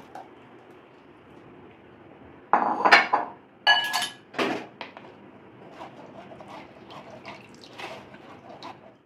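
Tomato paste, about 500 grams, is strained through a sieve into a bowl, giving a cluster of close metallic clinks and scrapes, wet drips and pattering bursts that fade to quieter intermittent taps, no speech.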